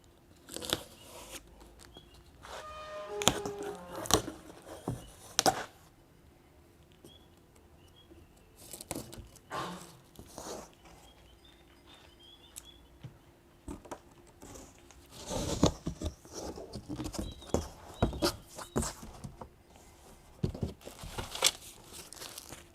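Packaging for a Viar Orion electric bicycle crinkles, rustles and tears in bursts of close, dry plastic and cardboard noise. Quiet pauses fall between the bursts, with no talk.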